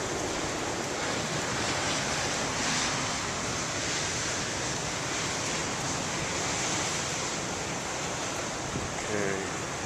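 Ocean waves break on rocks in a steady, loud wash of surf with wind noise on the microphone, a continuous roar with no distinct pauses.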